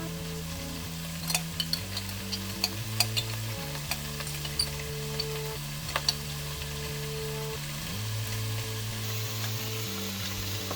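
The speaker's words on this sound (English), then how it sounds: "Stir until everything is coated and stirring occasionally until everything is heated" Squid and potato fry-up with Dijon mustard, mayonnaise and dried oregano being stirred in a pan: steady sizzling with repeated scraping, tapping utensil strokes over a low background hum, no talk.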